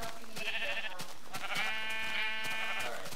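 Sheep in the Minecraft video game bleat repeatedly, a series of close, fairly loud wavering calls overlapping one another with no talk.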